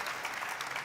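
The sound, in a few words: applause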